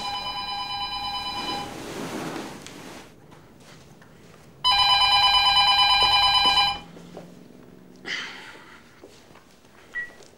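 A telephone rings indoors with a bright, trilling electronic bell. Two separate ring bursts, the second louder and closer, are separated by quiet room sounds.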